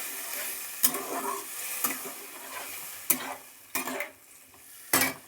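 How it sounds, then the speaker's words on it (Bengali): A spice paste is stir-fried in a pan for echorer dalna, a soft background sizzle broken by five or six sharp scraping clinks of a spoon against the pan at irregular intervals, with no voices. "এইবার মশলাটাকে কষিয়ে নেব ভালো করে।"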